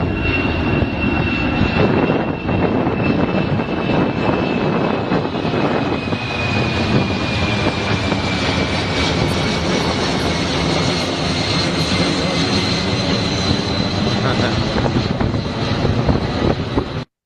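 A fixed-wing airplane passes overhead with a loud, steady engine roar that fills the whole stretch, while people talk briefly over the noise.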